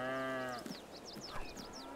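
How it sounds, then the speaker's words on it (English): Cows on a farm in Farming Simulator 22 give a low, drawn-out moo at the start, followed by chirping birds and farmyard ambience. "Hang on, you crazy cows."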